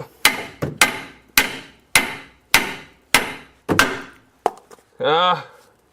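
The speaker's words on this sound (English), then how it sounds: "I hit the bolt joint, I think." A hammer strikes the bolt joint of a Chrysler 300 front control arm in a rapid series of about nine sharp metallic blows, close and loud, followed by a short voiced sound.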